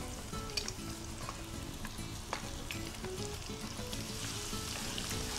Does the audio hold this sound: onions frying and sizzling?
yes